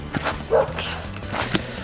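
A dog outdoors on a snowy day gives a few sharp, close barks in quick succession, loud against a quiet background.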